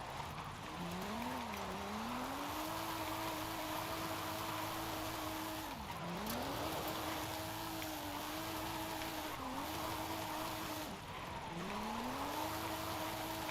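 A car drifting in the racing game Forza Horizon 5, its engine droning and rising and falling in pitch over long sustained tire squeals through repeated slides, with brief dips between runs and no talk.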